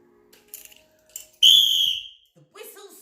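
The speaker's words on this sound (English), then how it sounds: "do I have to use my whistle?" A single sharp whistle blast sounds loud and close for about half a second, set between short snatches of nearby talk.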